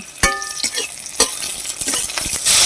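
Garlic, chili and a spoonful of black cumin frying in a little oil in a pan, a steady close sizzle broken by quick stirring scrapes and clinks.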